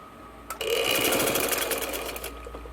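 Sewing machine stitching a gents shalwar, a short pause and then a fast steady whirring run of stitches lasting about two seconds, close and loud with no talk.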